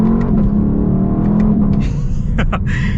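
A naturally aspirated V8 engine of a 2026 Lexus LC 500 revs loudly and close, a deep rumbling roar rising in pitch, with faint voices or noises briefly underneath.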